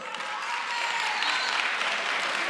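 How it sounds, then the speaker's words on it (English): Sustained applause from the audience at a youth league provincial general council, a dense, steady wash of clapping that stays loud throughout with no talk over it. "The last round of applause."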